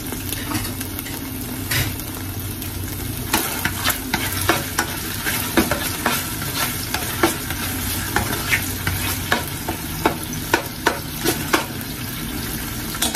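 Garlic sizzling and frying in a pan in a home kitchen, with a steady crackling hiss and repeated sharp scraping stirs of a utensil against the pan, close and continuous.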